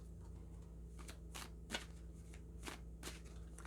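Quiet, close riffling and soft slaps of a deck of oracle cards being shuffled during a tarot-style reading, several short bursts over a low steady hum with no talking.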